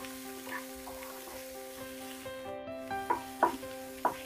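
Onions sizzle softly in a pan over high heat for dal tadka, fried in oil with garlic that is turning golden, a faint steady hiss broken by a few sharp scrapes of stirring near the end.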